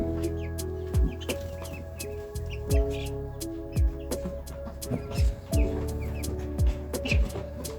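Broiler chickens around week five give soft, scattered clucks and chirps over a steady low hum, with several louder thumping bumps spaced through the flock noise.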